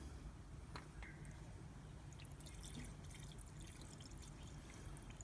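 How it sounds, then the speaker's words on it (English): Engine cleaner, a petrol-like fluid, being poured from a bottle into the engine of a 2001 Daihatsu YRV during an oil change, giving a quiet steady trickle and glug against low background rumble. "Alright, now we need to pour all of this in."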